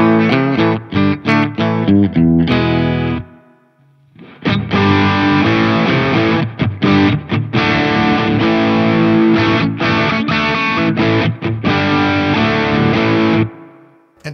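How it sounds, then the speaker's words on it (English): Electric guitar overdriven through a Laney Lionheart Foundry Super 60 112 combo amp, loud distorted chords and riffs ringing out, a brief pause near three seconds, then sustained crunchy playing that cuts off near the end. "Takes overdrive into the front of it like an absolute champ"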